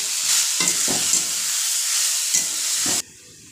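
Vegetables fry in a pan as salt and turmeric are stirred in. A loud, steady sizzle runs under a few scraping stirs, then cuts off abruptly near the end.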